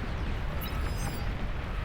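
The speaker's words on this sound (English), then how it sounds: "the cannon is still firing" A cannon in Beyond All Reason booms amid heavy battle noise, a dense continuous roar of blasts and rumble at loud, even level throughout, with no talking.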